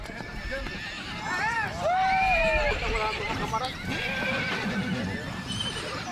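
Horses on a large cattle ranch in Los Llanos, several whinnies and neighs rising over a steady outdoor background, with hoof clip-clop and a voice talking alongside.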